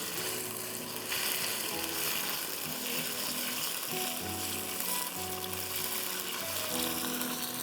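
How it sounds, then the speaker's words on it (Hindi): Chicken stir-frying in hot pomace olive oil for a Schezwan chowmein, a steady loud sizzle with occasional stirring clinks, continuous and close with no talking. "इसको स्टर फ्राई करते हैं 5-7 मिनट तक"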